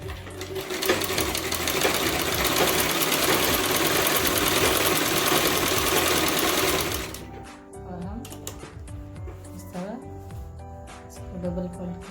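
A sewing machine runs steadily for about seven seconds, loudly double-fold stitching a salwar seam, then stops; quieter handling sounds and a voice follow.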